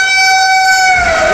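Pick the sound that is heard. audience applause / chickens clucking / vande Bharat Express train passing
vande Bharat Express train passing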